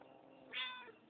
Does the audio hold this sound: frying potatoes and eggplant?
no